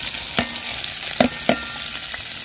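Scotch bonnet pepper and garlic frying in hot oil, a dense steady sizzle close up with a few sharp pops and clicks of a utensil stirring the pan.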